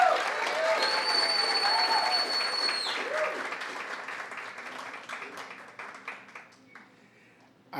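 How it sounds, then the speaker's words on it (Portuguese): A crowd at a formal council session applauds a band. The clapping is loud and full at first, with a few tonal sounds over it, then thins and trails off into scattered claps. "Mais uma salva de palmas"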